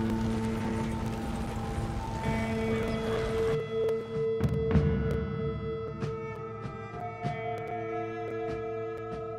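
Horse hooves clip-clopping at a steady riding pace in Red Dead Redemption 2, close and continuous over ambient game music and scattered soft clicks, with no talking.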